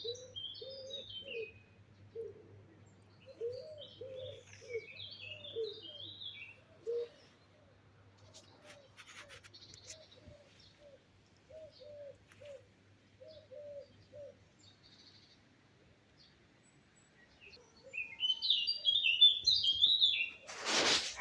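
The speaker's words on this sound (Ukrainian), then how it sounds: "Чи вам чудно, чи ні, як пташки співають." Small birds chirp and twitter in repeated short phrases, with a low cooing underneath early on and a louder burst of song near the end.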